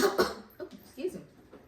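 A woman's cough comes first, then several smaller coughs or throat-clearing bursts spaced out over a couple of seconds, close to the microphone indoors.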